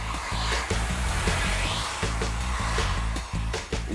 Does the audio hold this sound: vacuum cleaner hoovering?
yes